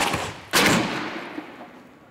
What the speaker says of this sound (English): Schiff and his team at Clemson University fire 2x4s at more than 160 kilometers per hour into a variety of structures